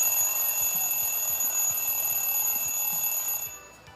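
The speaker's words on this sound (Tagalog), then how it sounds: "Alarm. Alarm clock." An alarm clock rings as a reminder for an elderly woman's medicine, a steady, insistent electronic ringing tone that keeps going for several seconds before cutting off and fading near the end.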